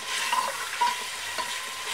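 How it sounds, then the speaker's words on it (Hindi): Onions sauté in a pan over a high flame for Delhi-style chicken nihari, giving a steady close sizzle and hiss with light stirring scrapes and no voices. "और प्याज को भी हाई फ्लेम पे अच्छी तरह से भूनेंगे"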